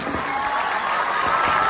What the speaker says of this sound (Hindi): सबसे पहले एक बार जोरदार ताली बजा दीजिए प्लीज।